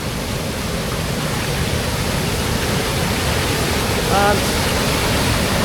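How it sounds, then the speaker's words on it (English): A waterfall pours into a pool outdoors at the start of the River Barrow, a loud, steady rushing roar filling the whole clip, with a voice briefly heard over it. "as you can see, that flows down into a nice pool and heads off."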